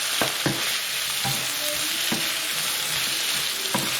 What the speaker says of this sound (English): As soon as you put that garlic and ginger paste into the pan